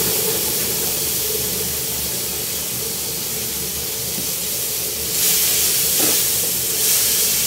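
Vegetables added to a hot pan sizzle with a steady, bright hiss, which swells louder near the end and comes with a faint clink.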